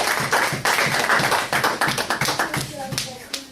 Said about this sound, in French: Applaudissez pour la gloire de Dieu.